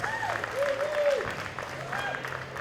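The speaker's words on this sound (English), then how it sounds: "Round of applause." Clapping from a group at a cobbler contest fills the space while a voice continues speaking over it.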